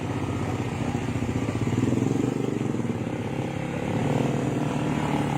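A scooter engine buzzes steadily as the rider drives off, the motor droning at near-constant pitch with slight swells, fairly close and continuous.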